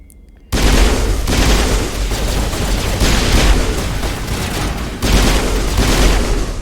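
Gunfire in Mass Effect Legendary: after a quiet start, loud sustained bursts of rapid shots with a heavy low rumble, briefly pausing before another barrage.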